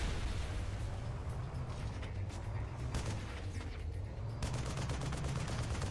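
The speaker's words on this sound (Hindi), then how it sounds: "ये चल गई अपनी मशीन गन।" Sustained machine gun fire in the war shooter Frontlines: Fuel of War, a dense, continuous roar of automatic shots mixed with battlefield rumble and distant artillery booms, with no voices.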